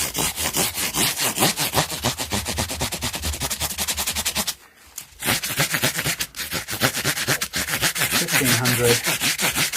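Fine 1500 grit sandpaper worked over the body of an Ibanez RG370DX guitar, giving loud, rapid, rhythmic back-and-forth rasping strokes up close, with one short pause midway.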